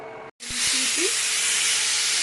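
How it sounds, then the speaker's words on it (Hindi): A pressure cooker on a stove, cooking greens, sends out a loud, steady steam hiss after a brief silence. The whistle rushes on continuously and fills the space up close. "सीटी"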